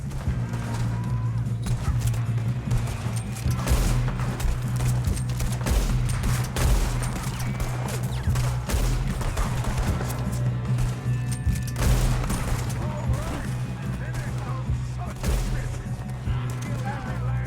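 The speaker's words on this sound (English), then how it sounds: "Good shooting, kid." Sustained gunfire from the Red Dead Redemption video game, a loud, dense barrage of overlapping shots with a low rumbling bed beneath, steady throughout, with voices talking faintly under it.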